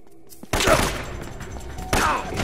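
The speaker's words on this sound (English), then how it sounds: "They're shooting at you too, you know." Gunfire in the video game Uncharted: Drake's Fortune, two loud bursts of shots landing about a second and a half apart, close and harsh, after a brief quiet moment.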